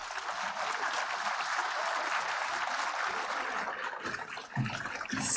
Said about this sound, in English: With a huge round of applause